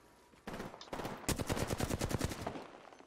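Rapid automatic gunfire from an Apex Legends gunfight, a few sharp shots then a loud sustained burst of evenly spaced rounds close by, with no talking.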